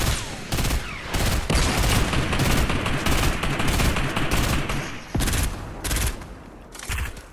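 Rapid bursts of video game gunfire crackle continuously at close range, with dense overlapping shots and brief gaps between volleys during a multiplayer match.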